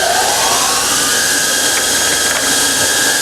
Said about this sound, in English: So we'll start the saw motors.